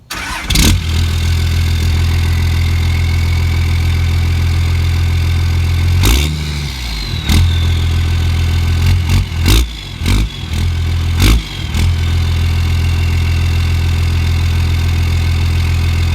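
A truck engine cranks and catches, then idles with a steady loud rumble broken by several sharp revs and bursts near the middle, heard close with no talk.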